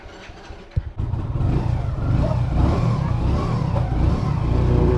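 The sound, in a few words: motorcycle engine starting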